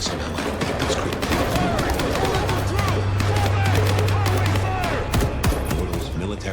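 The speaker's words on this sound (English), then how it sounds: "Gunfire." Dense rapid gunfire in the video game Vampire: The Masquerade – Bloodlines 2 rattles continuously, overlapping bursts of shots with a low hum beneath, loud and close throughout.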